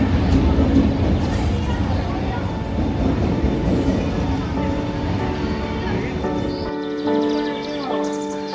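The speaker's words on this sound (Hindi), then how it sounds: "ये वीडियो क्लिप जनशताब्दी एक्सप्रेस के केवड़िया से अहमदाबाद की रिटर्न जर्नी के डिपार्चर का है।" Jan Shatabdi Express pulling out on its return run from Kevadia to Ahmedabad, heard from inside a Vistadome glass coach: a steady broad rumble of wheels and carriage noise, with tonal hums and whines rising near the end.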